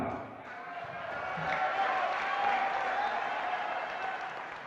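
A crowd applauds at an Indonesian political gathering about the Ummat party, a broad steady wash of clapping that swells in the middle and holds, moderately loud, with some voices mixed in.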